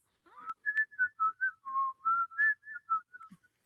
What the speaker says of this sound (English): He's in there whistling